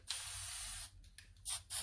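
An aerosol spray paint can hisses out in a long burst, then in several short separate sprays, close and crisp with quiet gaps between.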